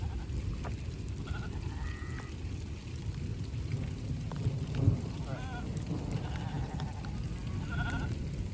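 A baby sheep lets out several short bleats, some wavering, at moderate distance over a steady wash of rain and outdoor ambience during a summer storm near Tübingen.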